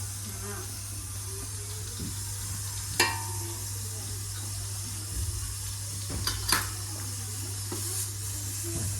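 Spices tempering in hot oil in a pot while pav bhaji is being made, a soft steady sizzle running under a low constant hum, with a couple of sharper clatters and stirring noises.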